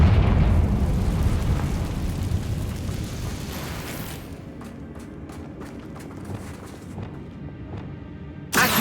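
A Confringo blasting spell explodes in the Hogwarts Legacy video game: a loud, rumbling burst opens and slowly decays, followed by a scatter of sharp crackling pops and debris hits.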